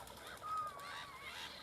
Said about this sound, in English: This is what we have to put up with here, with these birds.